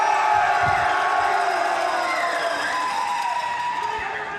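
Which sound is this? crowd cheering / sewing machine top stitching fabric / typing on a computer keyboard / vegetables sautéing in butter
crowd cheering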